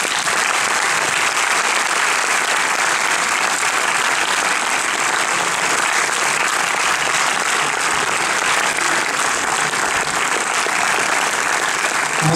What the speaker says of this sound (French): je voudrais du bruit pour Moussa Mansali